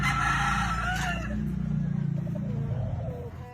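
A rooster on a chicken farm crows loud and close, one long drawn-out call that starts bright and fades into a lower trailing tone, over a steady background hum.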